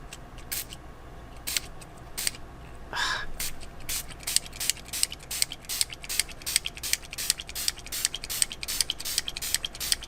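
A spray bottle mists water onto grated watercolor pencil powder on paper, firing a long run of short, crisp squirts in a steady, rapid rhythm, close by and fairly quiet.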